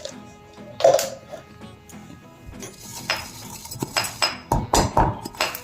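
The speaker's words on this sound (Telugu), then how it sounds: "కచ్చాపచ్చాగా దంచుకుందాం" Carom seeds being pounded coarsely in a mortar, a series of close, uneven knocks and metallic clinks that grow more frequent toward the end.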